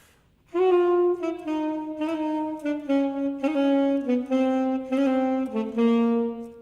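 A solo classical saxophone plays a simple, steady melodic line of sustained notes with brief breaks, a passage with its grace notes removed, clear and close with no one talking.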